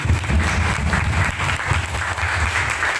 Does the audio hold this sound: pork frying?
no